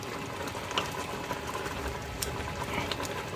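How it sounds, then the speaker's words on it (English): Barbecue sauce for Hawaiian BBQ simmers in a Ninja Foodi SmartLid cooker, a steady bubbling hiss with small pops and a soft mechanical hum running underneath, close and moderately quiet, no talking. "we're just going to simmer this down until just about everything is gone"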